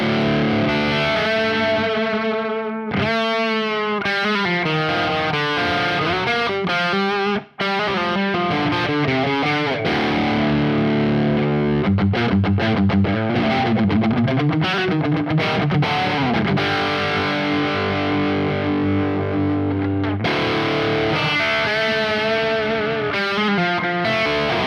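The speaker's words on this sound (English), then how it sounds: "now let's check out some crunch sounds." A signature electric guitar plays a crunchy, distorted tone through an effects chain, sustained chords and riffs running loud and continuous with a brief drop partway, no talking.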